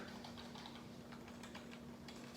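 Rapid keystrokes on the WASD keys of a Razer gaming keyboard, a steady run of light, close clicks with no talking.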